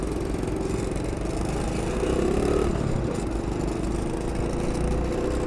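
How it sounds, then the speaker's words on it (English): A loose exhaust clatters on an idling 2009 SYM Symba scooter, a steady mid-pitched engine drone with a rattly texture running continuously and fairly close, with no talk. "That is the exhaust system loose."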